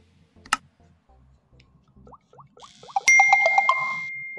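A phone notification chime sounds as an OTP text message arrives during a Saudi Mudad registration, a bright ringing tone with a few quick repeated dings and a short sustained tail, heard clearly after a soft click and some faint taps.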